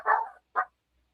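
A dog barks twice, a longer bark followed by a short one, close by and clear with no talk over it.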